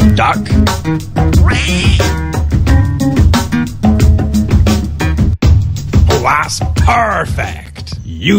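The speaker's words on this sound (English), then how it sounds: "Duck." Cartoonish duck quacks from the video game Pumkinland, loud and repeated over busy game music and sound effects, with a voice speaking over the mix.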